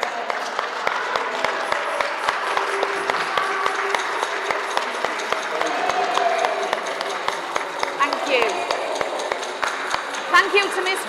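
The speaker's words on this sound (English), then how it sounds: "So let's give them a round of applause." Audience applause at a school Christmas concert, a steady wash of many hands clapping through the whole stretch, with murmured voices mixed in beneath.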